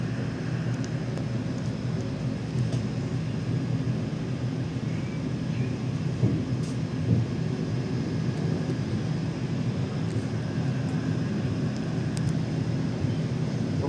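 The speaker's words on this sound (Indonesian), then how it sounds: "Pukul 5:55 kereta api Madiun Jaya berangkat dari stasiun Magetan." Madiun Jaya train departing Magetan station, a steady low rumble and drone sustained throughout, fairly loud with wind buffeting and occasional faint clicks.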